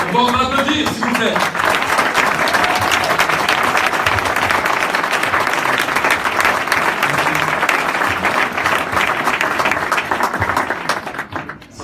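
Sustained audience applause at a French startup talk, dense and loud from start to finish, with some voices mixed in and a tapering off at the very end.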